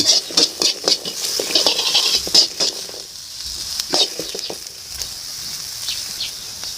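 Garlic and shallots being stir-fried in a pan: a bright, steady hiss of sizzling oil with repeated scraping and tapping strokes from a spatula, loud and close, without speech.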